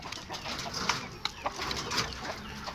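An Indio Gigante hen gives soft, scattered clucks over a light background hiss, fairly faint and close by, with no voices.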